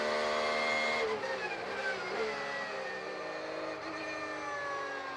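A Porsche GTD PRO race car in the IMSA championship roars close past a Corvette on the circuit, a loud sustained engine note with shifting pitch under trackside commentary-free ambience.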